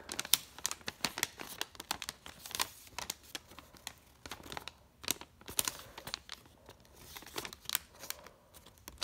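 Paper being folded and creased for an origami Santa hat, a close, quiet run of crinkling, rustling and sharp crease taps in an uneven rhythm.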